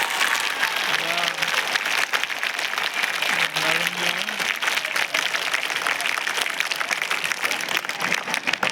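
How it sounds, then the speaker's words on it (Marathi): Students at a Jawahar Navodaya Vidyalaya in Akola clap loudly and continuously for their teacher, dense crowd applause with voices briefly rising over it. "सरांसाठी जोरदार टाळ्या वाजवा."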